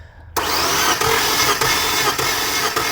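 Infiniti G25 engine cranked over on the starter during a valve adjustment, a sudden onset of steady loud whirring drone with faint rhythmic pulses roughly every half second, continuing to the end.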